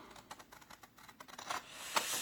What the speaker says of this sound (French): Les ciseaux, ils sont là. Hop, voilà. Donc, on a besoin de couper ça comme ça.